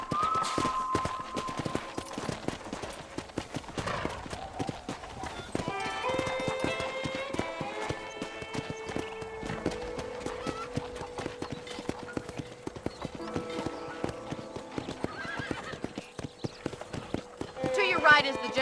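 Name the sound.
horse riding hoofbeats in video game Red Dead Redemption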